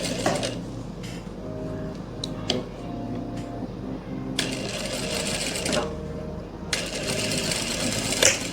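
A sewing machine stitches a kurti in short, rapid bursts of mechanical whirring, stopping and starting several times at close range, with a voice talking quietly in between.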